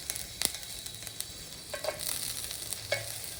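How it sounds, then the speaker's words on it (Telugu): Ginger pieces dropped into two spoons of hot oil on a stove for tomato bath, giving a soft, quiet sizzle with scattered crackles and a few brief sharper pops. "2 స్పూన్ ఆయిల్ వేసుకున్నాక మనం అల్లం ముక్కలు వేసుకోవాలండి"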